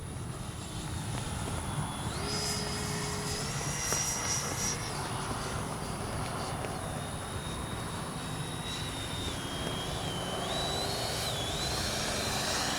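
An FMS 70mm F-18F V2 twin electric ducted-fan RC jet roars past on a low pass, a steady loud whine with rising and falling pitch shifts as it flies by.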